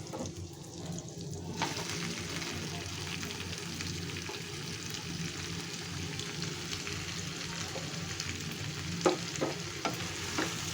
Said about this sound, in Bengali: এরপর আমি একটু নাড়া দিয়ে দিচ্ছি।